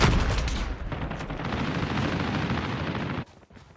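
Heavy gunfire and blasts in the mobile shooter game Black Ops Mobile, a dense continuous roar of shots and rumble that cuts off abruptly near the end, leaving near quiet.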